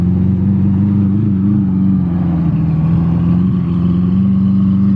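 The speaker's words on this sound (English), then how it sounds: "Oh, you can hear the turbos and it's a V12." A twin-turbo V12 Lamborghini Aventador with an underground-racing build, reportedly around 1600 horsepower, rumbles loud and close at a car meet, a steady throaty drone with slight swells in pitch throughout.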